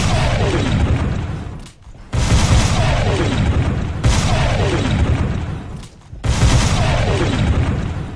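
Blade Runner shotgun in Fallout 4 firing explosive rounds: four loud booming blasts at an even pace, each followed by a long rumbling tail, then a short gap.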